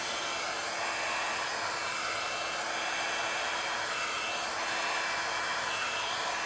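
A hair dryer blows continuously nearby on an acrylic pour painting, a loud, even whooshing hiss that doesn't let up.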